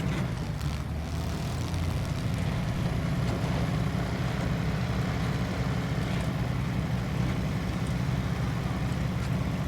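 Chevy Scout pickup engine in Snowrunner, a steady droning hum held for a whole lap with no breaks, loud and close up.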